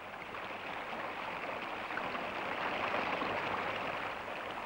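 Mountain torrent rushing over its bed down steep slopes, a steady broad wash of flowing water, close and continuous, no voices.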